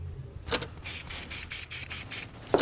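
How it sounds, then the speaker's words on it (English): Navy paint mixed into clear coat sprays out in about seven short hissing bursts, close and fairly quiet, in a steady rhythm. "We're gonna spray some navy in this little amount of clear."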